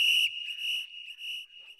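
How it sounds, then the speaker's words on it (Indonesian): A whistle sound effect in a horror story about a final climb on Mount Cikuray gives a steady, piercing high tone. It sounds in short repeated pulses over about two seconds, with no talk. "Prit, prit, tapi gak jelas samar-samar gitu suara peluitnya."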